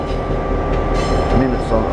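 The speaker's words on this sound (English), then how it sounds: "a suburban train going out" A suburban train pulls away on the Brisbane–Rockhampton line, a steady loud rumble with a low hum and faint wheel squeal, while a voice talks over it.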